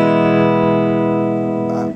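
A guitar played through a Hughes & Kettner StompMan preamp pedal into a power amp and speaker rings out as one sustained, harmonically rich distorted chord, loud and decaying slowly over two seconds.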